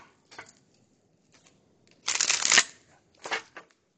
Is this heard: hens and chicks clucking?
no